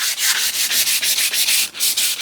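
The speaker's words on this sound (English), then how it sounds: "I'm using a coarse grit sandpaper right on the edges where there is a significant hump" Coarse-grit sandpaper rubbed by hand along the edges of a wooden shoe tidy, a loud, steady rasping in rhythmic back-and-forth strokes with brief pauses between passes.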